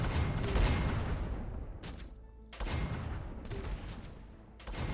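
Gunfire in the video game Endzone 2 as raiders fire on a unit: quiet, distant bursts of shots and booms recurring in clusters every couple of seconds, with a faint tonal game effect between them.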